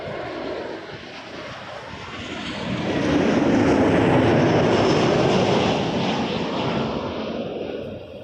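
A plane takes off from runway 05 at Toronto Pearson airport, its engines building into a loud, sustained roar that swells midway and holds steady with no talk over it.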